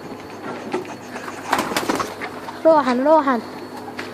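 Pigeons kept for night flying coo with a clear, wavering call near the end, after rustling movement and someone speaking and calling out over them.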